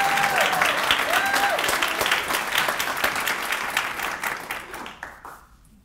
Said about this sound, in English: So if you can give him a round of applause as he comes up.